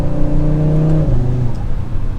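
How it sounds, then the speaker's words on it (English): A stock turbocharged five-cylinder engine in a 2024 Audi RS3 (8Y) hums at a steady pitch, then drops to a lower note, with a faint turbo whir over the droning engine. "you can already bone stock hear the turbo noises in this car"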